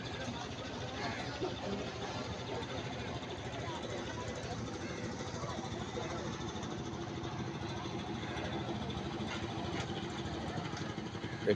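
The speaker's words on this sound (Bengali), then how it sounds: "একটি মাছঘাটে একটি যাত্রীবাহী ট্রলার এসেছেন মাছ নেওয়ার জন্য" A passenger trawler boat's engine idles with a steady low throbbing chug at a riverside fish landing ghat, continuous and moderately distant, while people talk over it.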